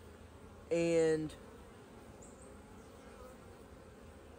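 Honey bees buzz around a hive frame being inspected during beekeeping, with a loud, close, droning burst lasting about half a second over a steady low hum of the colony.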